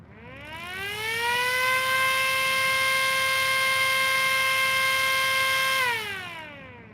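A homemade model siren with a German-style port design winds up to a loud, steady wailing tone, holds it for several seconds, then winds down, heard alone and close.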